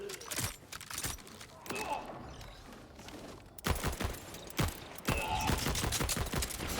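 Gunfire from a weapon in the video game Borderlands 4, bursts of rapid shots separated by brief pauses, with mechanical clicks and creaks in between, loud and close.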